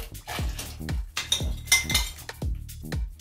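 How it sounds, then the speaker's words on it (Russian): A utensil stirs a pot of boiling water after a paste is poured in, giving repeated metallic clinks and scrapes against the pot in a loose rhythm, close and clear with no talk. "Вот эту кашицу я сейчас сюда выливаю."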